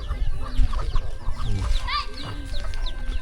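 Chickens cluck around a rural village home in Laos, kept alongside ducks: close, busy overlapping clucks and short squawks repeating throughout against a soft outdoor background.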